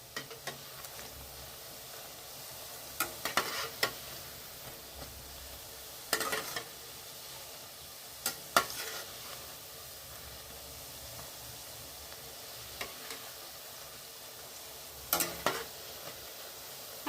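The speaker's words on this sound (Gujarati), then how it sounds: "આપણે જ્યારે ગાંઠિયા તળીએ ત્યારે ગેસ ધીમો રાખવો, જેથી અંદર તે કાચા ન રહી જાય" Gathiya frying on a low flame in hot oil, a soft steady sizzle punctuated by several short stirring scrapes and clatters.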